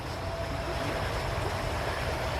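Steady broadband rush of a creek flowing past big boulders in Southwest Virginia, continuous and fairly close, with no one speaking.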